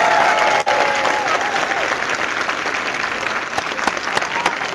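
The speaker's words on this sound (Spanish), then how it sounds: "Aplauso para la iglesia católica" A church congregation applauds the Catholic church: dense, loud, sustained clapping from a large crowd that continues steadily without a break.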